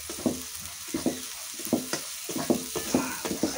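Spices sizzle in a pan for a Bengali-style duck curry while a spoon stirs and scrapes in a steady rhythm about twice a second, close and moderately loud over the constant frying hiss.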